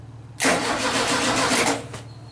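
The starter motor on a VW-engined trike cranks the engine in one continuous, loud, rough whirring burst of about a second and a half, then cuts off abruptly.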